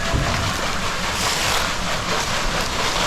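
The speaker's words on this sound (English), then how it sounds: "Water flume." Water rushing steadily through a wooden flume at a historic iron furnace site, a continuous broad roar with outdoor wind noise and no voices.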